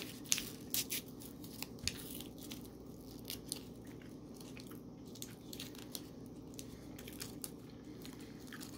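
Soft, chewy macadamia white chocolate cookie being bitten and chewed close to the mic, faint and quiet, with a few small crunchy clicks over a low steady background hiss and no talking.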